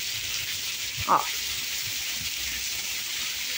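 Rain falls on desert rose plants in a steady, hissing wash, and a voice briefly exclaims partway through.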